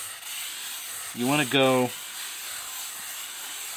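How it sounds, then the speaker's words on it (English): Cuttlebone rubbed on sandpaper in a figure-eight motion makes a steady, close, dry rasping hiss that runs throughout, with a brief spoken phrase over it. "let's do a little sanding"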